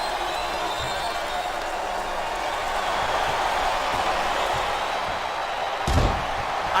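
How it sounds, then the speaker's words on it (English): A capacity wrestling arena crowd in Smackdown vs Raw 2008 gives a loud, steady roar of murmuring and cheering, with a sharp thud near the end. "It sounds like this capacity crowd has something on their minds."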